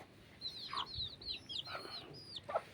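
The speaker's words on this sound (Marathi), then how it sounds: "इकडं एक कोंबडी आणि सहाच पिल्ला" A free-range country hen moves about with her six small chicks on a farm, giving soft clucks among a run of high, thin chick peeps, faint and close, in scattered bursts.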